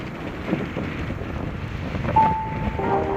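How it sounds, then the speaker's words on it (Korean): Strong, cold wind gusts steadily across the microphone on Dobongsan mountain, a loud continuous rumbling roar with no voices. "바람이 세고 상당히 차니다"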